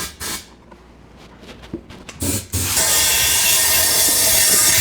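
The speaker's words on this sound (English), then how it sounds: "just kind of blow this out with air, just to force as much gunk out as possible" A loud steady hiss of compressed air blasting gunk out of the fuel tank of a Suzuki Ozark LTF-250 ATV, starting after a few short bursts and then blowing continuously, close up, with no talking.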